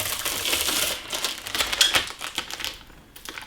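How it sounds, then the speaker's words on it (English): Protective plastic wrap being peeled off a WanHao D9 MK2 3D printer bed, giving a close, continuous crinkling and crackling with rapid ticking bursts for several seconds, no voices. "So we'll take this protective wrap off, give us access to the bed"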